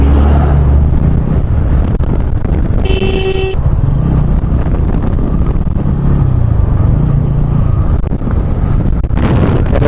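A lorry labouring up a ghat road, heard from a motorbike over heavy wind noise and engine rumble, with a short horn blast early on.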